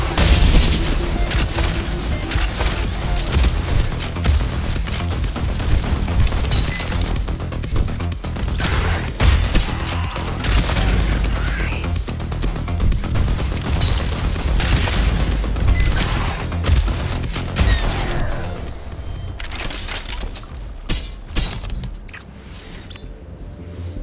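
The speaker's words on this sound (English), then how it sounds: "More rocket launcher damage." Rocket launcher explosions in a video game, a dense unbroken barrage of booms, crashes and bursts that stays loud for over twenty seconds before thinning out near the end.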